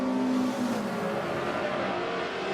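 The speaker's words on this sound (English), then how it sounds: "Chief is pushing hard to get on the back, and we got more TCR traffic coming up" GS race cars in a Michelin Pilot Challenge race at Road America roar steadily at full throttle, a loud continuous engine drone with no talk over it.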